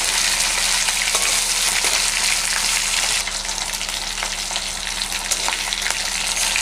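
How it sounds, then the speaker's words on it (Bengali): Hilsa fish heads fry in a pan over a medium gas flame, giving a loud, steady hiss and crackle of hot oil with no voices. "মাথাগুলোকে একটু ভালো করেই ভেজে নিতে হবে।"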